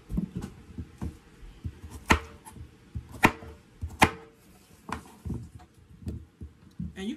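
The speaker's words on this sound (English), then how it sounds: "I'm just going to start cutting up the rutabagas" A knife chops through hard rutabagas on a cutting board, with irregular sharp knocks and scraping cuts at close range and a low background hum.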